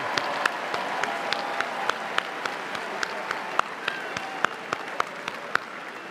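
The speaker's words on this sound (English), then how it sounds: "please stand and receive our well-deserved applause" Graduation commencement applause at Ohio University's spring ceremony: a steady, dense wash of many hands clapping throughout, sharper individual claps popping out regularly near the front, sustained at an even level without any speech over it.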